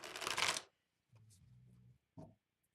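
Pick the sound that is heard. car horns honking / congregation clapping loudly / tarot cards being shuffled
tarot cards being shuffled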